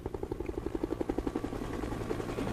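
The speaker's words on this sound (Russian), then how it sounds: "Вот он, наш спасительный вертолет." A rescue helicopter in the video game State of Decay: rapid, steady rotor thumping that carries on evenly at moderate volume, with no talk over it.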